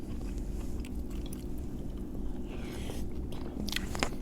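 Someone bites and chews samsa pastries up close, with soft repeated crunches and moist chewing sounds over a constant low background hum, and no speech.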